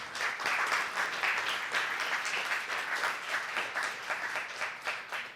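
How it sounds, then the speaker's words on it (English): Audience applause after a machine learning talk, steady crowd clapping that holds at an even level throughout, moderately distant and without speech over it. "Let's give him a big round of applause."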